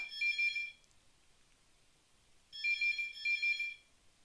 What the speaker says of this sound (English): I can hear the phone ringing, but my phone's not ringing over here.